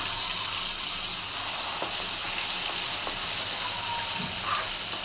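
Steady, bright sizzling of ginger paste frying in hot tempering oil, close and continuous, with a few faint pops and clinks.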